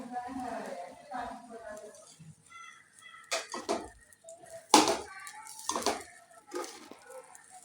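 Egg rice is stirred in a hot pan over a high flame, with a spoon scraping and tapping against the pan in scattered knocks. Someone talks over the stirring throughout.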